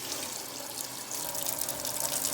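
Tepid tap water runs steadily into a sink to wash greasy wool fleece, a continuous hissing splash at close range with no talking.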